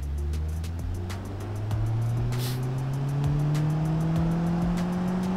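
A Tesla in BeamNG.drive at full throttle, its engine or motor note climbing steadily in pitch under continuous load with a sustained, fairly loud drone, with faint clicks and road noise over it.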